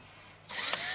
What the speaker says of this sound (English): I'll just drill a little series of holes